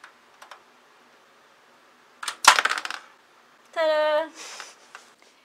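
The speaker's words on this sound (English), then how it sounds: "You just have to screw the screws in" Screws being fitted while installing a PC power supply in its case: light ticks, a burst of small metallic rattling, then a brief whirring whine, all close and fairly quiet.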